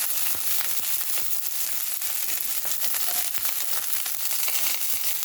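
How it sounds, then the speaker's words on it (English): Steady, close sizzling of T-bone steak frying in a hot pan, a dense crackling hiss with scattered pops, continuous throughout with no talking. "once we get that steak on, it's gonna sizzle good"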